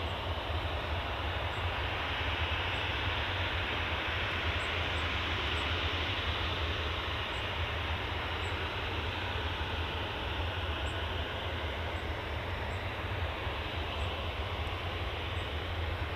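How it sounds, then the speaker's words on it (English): A TUI Boeing 737-800 airliner bound for Marrakesh gives a steady, loud broadband roar with deep low rumble, sustained evenly throughout with no voices. "Next up will be this TUI, and this is off to Marrakesh, 737-800 G Tour V."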